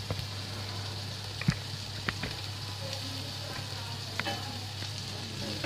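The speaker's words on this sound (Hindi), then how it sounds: "तो मैंने आलू इसमें ऐड कर दिए, तो इसको मैं आलू को इसमें मिक्स कर दूंगी।" Thinly sliced potatoes are mixed into frying tomatoes and oil, a steady sizzle under a low hum, punctuated by several distinct spoon knocks and scrapes against the pan, no speech.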